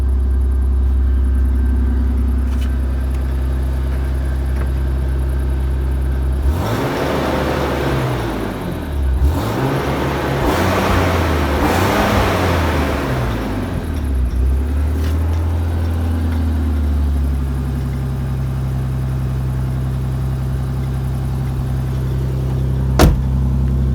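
A drift-build car engine holds a steady idle at about 1500 rpm, a loud continuous low rumble with a stretch of heavier revving in the middle before it settles back to idle.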